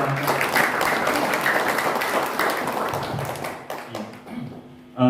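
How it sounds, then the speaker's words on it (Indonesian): Audience applause at an evening motivational gathering: steady clapping from a crowd for several seconds, thinning toward the end before a final loud burst, with faint voices in the background. "Tepuk tangan dulu buat"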